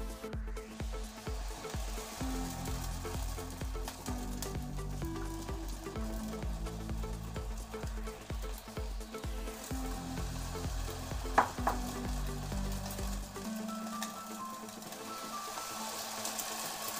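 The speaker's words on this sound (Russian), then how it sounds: "Жарим наши драники до очень румяного цвета" Steady crackling sizzle of grated potato pancakes (draniki) frying in a pan, continuous and close, with faint background music throughout.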